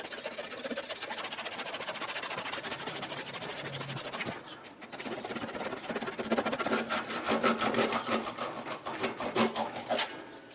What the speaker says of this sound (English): With a handsaw, you shouldn't really have any issues.